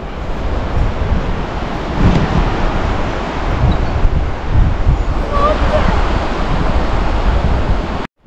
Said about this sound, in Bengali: এটা হচ্ছে মোচু নদী, যে নদীর ওপর দিয়ে আজকে আমরা রিভার রাফটিং করলাম, সেই নদীটাই।